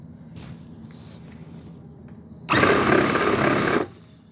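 A KL-40058 high-speed rotary motor rated at 40,000 RPM runs at about three-quarter speed in a loud, steady whine for just over a second, then cuts off, with quieter handling noises before it.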